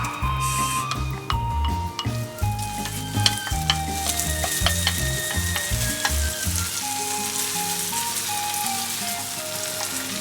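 Bacon fries in melted butter in a hot frying pan as a minestrone soup is started. A continuous close sizzle mixes with light clattering, faint tonal background sounds and no speech.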